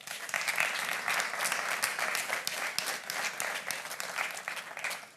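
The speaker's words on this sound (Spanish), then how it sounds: "Por favor, un fuerte aplauso para ellas." Sustained audience applause at the Mobile Week Alcalá 2022 event, a dense wash of many hands clapping steadily for the full stretch, moderately loud and with no voices over it.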